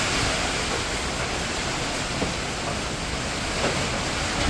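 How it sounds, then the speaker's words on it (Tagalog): Heavy rain and wind from Typhoon Uwan roar in a dense, steady wash of noise, continuous and loud with no letup. "Talaga pong malakas na ang ulan"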